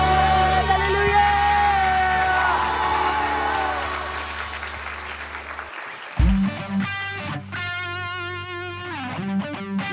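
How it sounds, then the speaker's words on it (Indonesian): A church children's worship crowd claps and cheers over loud music and effects, the applause blending with amplified sound and a shouting voice throughout. "Mari semuanya bertepuk tangan bersama-sama."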